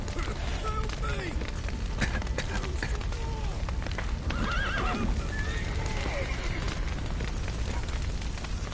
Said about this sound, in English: The horses.